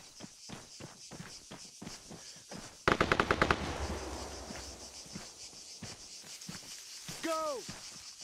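Machine gun covering fire in a war video game, a quick rapid burst of shots with echoing tail, amid running footsteps and a voice shouting.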